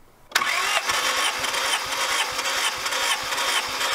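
The B16A2 engine in a 1999 Honda Civic SiR cranks during a compression test. It starts abruptly and keeps up a loud, steady rhythmic churn with regular pulsing beats for several seconds, with no voices.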